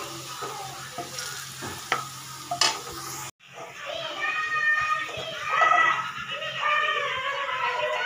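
Sliced onions fry in a kadhai for biryani, sizzling and crackling under stirring while voices and children's chatter carry on in a home setting.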